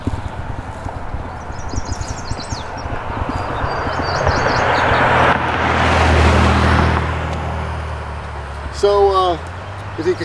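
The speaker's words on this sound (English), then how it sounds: "that was a car that just went by at about 55 miles an hour" A car on a Wisconsin highway passing at about 55 mph, swelling to a loud whoosh mid-clip and fading, with birdsong early on and a voice talking near the end.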